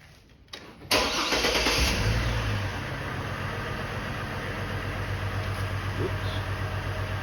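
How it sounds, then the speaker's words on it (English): A Chevy Trailblazer with a cylinder misfire cranks and catches, the engine firing up loudly and settling into a steady, slightly uneven idle nearby. "Start the vehicle."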